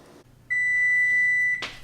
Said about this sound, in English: so the oven is beeping